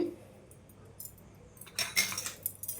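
A spoon stirring garam masala, cumin powder and pepper into tomato rice in a metal pan, heard as soft scraping with scattered light clinks and taps that grow busier toward the end, close by and fairly quiet.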